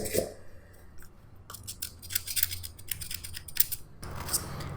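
Plastic phone housing being scratched in a durability test: quiet, repeated scraping strokes in short bursts, close and soft, with no talking.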